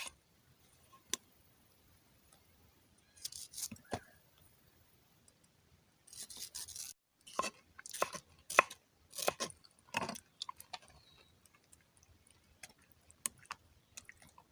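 Pineapple is cut up at home for a milkshake, sparse crisp knife strokes on a board arriving in short irregular bursts with quiet gaps, close and faint.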